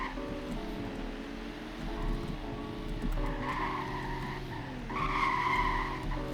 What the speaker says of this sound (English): it's hard to hold a slide with TCS off